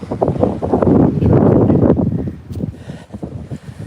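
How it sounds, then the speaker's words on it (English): Strong gusts of wind buffet the microphone in a loud, roaring rumble that surges and eases, with an open outdoor feel. "Just so you can see how windy it is, guys."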